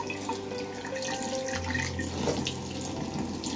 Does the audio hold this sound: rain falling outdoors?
no